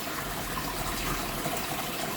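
A garden hose left trickling into a fish pool, giving a steady, continuous watery hiss and splash close by, unbroken across the whole stretch with no voices.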